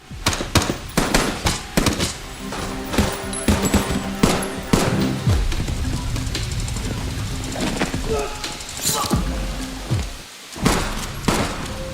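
Film firefight as a strike team storms a building, with dense bursts of automatic gunfire and single shots cracking in rapid clusters, loud and close, with thuds and brief pauses between volleys.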